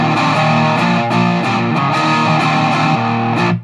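Electric guitar played through a Boss DS-1 distortion pedal rings out loud and saturated, a short sustained riff of buzzing chords and notes filling the space before cutting off at the end.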